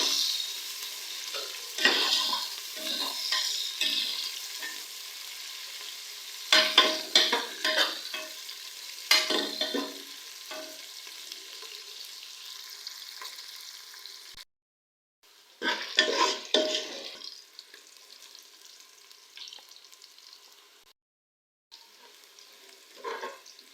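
Onions fry in oil toward golden for beef bhuna gosht, a close sizzle broken by bursts of spoon scraping and stirring against the pan, with short silent breaks between.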